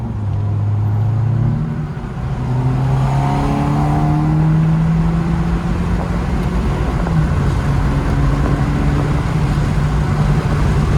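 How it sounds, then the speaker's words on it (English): A 2012 Mazda 3 fitted with a short ram air intake revs hard nearby, the engine rising and falling through several loud blips and a sustained throaty rumble, with no voices. "he wants to give us a little rev because we got the camera out"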